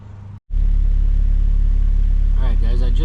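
K-swapped EM2 Honda Civic engine idling steadily after a Hybrid Racing cold air intake install, a loud continuous low rumble that starts abruptly after a brief gap, with a voice talking over it near the end.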